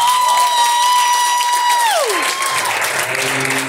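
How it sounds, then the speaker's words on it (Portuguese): An audience at a ball applauds Casa Transformar with a dense, loud wash of clapping and crowd noise. A sustained tone holds steady, then slides down in pitch partway through. "Então palmas para a casa transformar."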